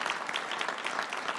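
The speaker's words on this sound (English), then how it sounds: "If you could give them all a round of applause." Steady, fairly close clapping from an audience at a ceremonial bill signing for Boston liquor licenses, a brief continuous patter of many hands.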